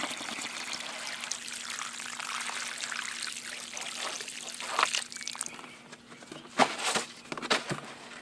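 Liquid trickles and pours steadily from a shot milk jug outdoors, a continuous splashing stream that breaks into a few louder spatters and drips near the end.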